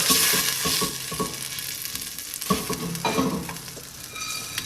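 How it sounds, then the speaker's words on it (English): A green mixture is stirred in a hot pan with olive oil, loud sizzling and frying under irregular scraping strokes of the stirring, with no talking. "And give it a good stir."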